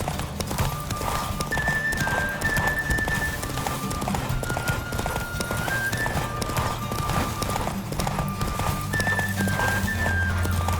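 A horse gallops hard in a race in the video game The Witcher 3, its rapid hoofbeats drumming steadily throughout under a loud music score.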